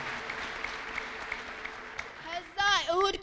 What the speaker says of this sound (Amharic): አጨብጭቡ ለጌታ ለኢየሱስ ክርስቶስ።